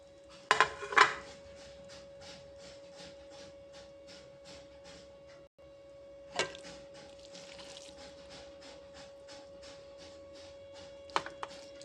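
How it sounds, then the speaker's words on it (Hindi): Carrot halwa is served into a dish: a spoon scrapes and clinks against metal pans and plates in a quick run of taps, with a few sharper knocks early and late, close up. "अब हम इसे अपनी डिश में सर्व कर लेते हैं।"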